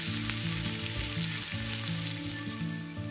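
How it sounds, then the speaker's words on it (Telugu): Sliced onion, green chili and ginger fry in a pan for upma, giving a continuous dense sizzle and hiss with faint crackles, over steady soft background music. "ఉల్లిపాయ లైట్ బ్రౌన్ కలర్ వచ్చే వరకు వేయించుకోవాలి."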